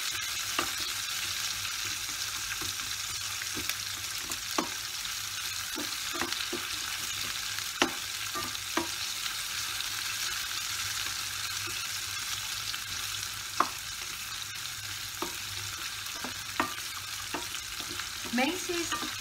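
Onions stirred and frying in a steel pan for a vegetable bajra millet pulao: a steady soft sizzle runs throughout, with sharp scraping clicks of a spoon against the steel at irregular intervals, fairly quiet and with no talk.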